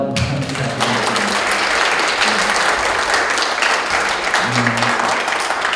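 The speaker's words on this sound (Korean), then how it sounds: "박수 한번 부탁드립니다" An audience at the launch ceremony of a Korean family festival organizing committee claps in steady, dense applause, with a voice briefly heard at the start and again near the end.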